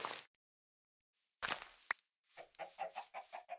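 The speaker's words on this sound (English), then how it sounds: "those are chickens" Chickens in the Minecraft video game give a few scattered clucks, followed by a quick run of rhythmic, fairly faint clucking sounds.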